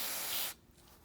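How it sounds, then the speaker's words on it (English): Carb cleaner sprayed onto the needle valve of a Sea-Doo carburetor: a close, hissing aerosol burst lasting about half a second, then a quiet tail. "you just want to spray it down with some carb cleaner"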